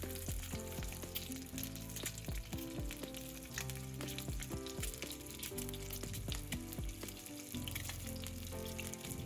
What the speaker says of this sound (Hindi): अब मैं जो अंडे फ्राई किए थे वो इस सालन में ऐड कर दूंगी।